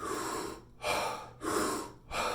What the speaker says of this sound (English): I'm just breathing into my chest because I'm going fast and hard